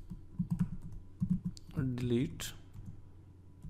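Code typed on a computer keyboard, clusters of quick clicking keystrokes near the mic, pausing while someone speaks briefly, then light tapping resumes.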